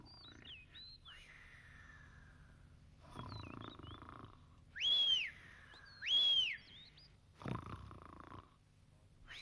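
Sniff, a cartoon character, snores loudly in a Moomin valley scene, the slow drawn-out breaths punctuated by two sharp, high whistle-like wheezes, with soft rumbling grunts between, all voiced by an actor imitating snoring.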